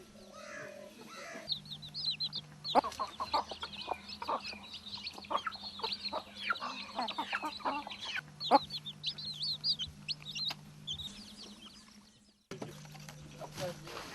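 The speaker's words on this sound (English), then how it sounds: "These chickens feed on insects, worms and grains in the backyard of the house." Backyard chickens cluck and chirp in a busy chorus nearby, with a low mechanical hum in the background and occasional sharp knocks.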